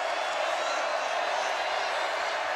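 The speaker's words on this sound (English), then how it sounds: "Crowd is up." A packed football stadium crowd at a Baylor vs Oklahoma State game in 2012 cheers in a continuous, even roar, loud and unbroken from start to finish.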